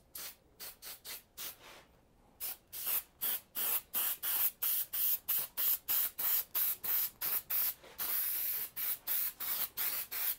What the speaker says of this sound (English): take some spray adhesive, and I'm going to spray the end